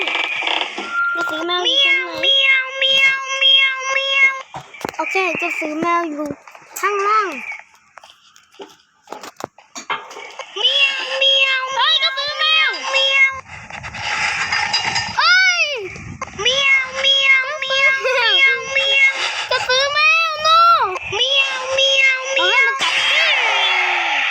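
Cats meow repeatedly in a horror video game, rising and falling calls coming in clusters over about twenty seconds, loud and close, with game noises and brief crunching bites mixed in.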